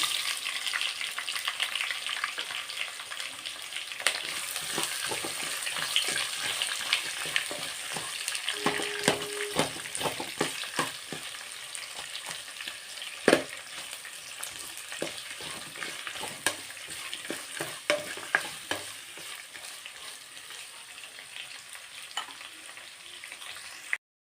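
Onions frying in oil for lemon chitranna, a steady close hiss with crackling, broken by sharper pops and spatters throughout.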